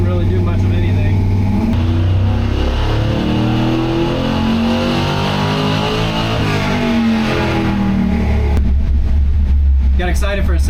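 An LS3 V8 in a clean C10 pickup tuned with a Holley Terminator X, running loud and steady on a tuning run with rising and falling engine tones, ending in a sharp rev change.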